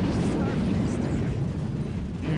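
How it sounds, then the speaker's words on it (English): Artillery explosions boom continuously on both sides of a 2 vs 2 battle in Dawn of War Ultimate Apocalypse, Space Marines and Dark Eldar against Imperial Guard, forming a loud, dense rumbling wall of blasts. "Huge explosions on both sides."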